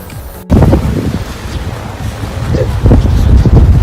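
Strong wind buffets the microphone in heavy, rumbling gusts, with a brief click near the start and a constant roar throughout.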